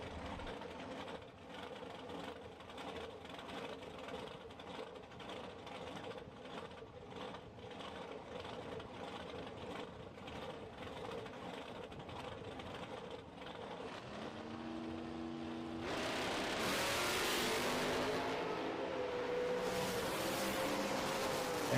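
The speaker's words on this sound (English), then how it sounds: "Dragster here, right side. Chevrolet Nova on the left as we continue on with our Edelbrock Bracket Bash" At a bracket drag race, a dragster and a Chevrolet Nova idle with a low, lumpy rumble, then one engine suddenly revs hard and loud near the end, heard from a distance.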